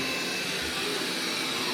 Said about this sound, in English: it's gonna be vacuum everywhere.